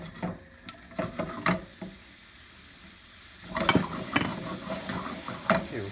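Sliced mushrooms frying in a pan of vegetable and sesame oil, with a steady sizzle and intermittent stirring clatters that grow busier and louder in the second half.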